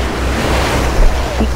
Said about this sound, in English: we're gonna take water over the side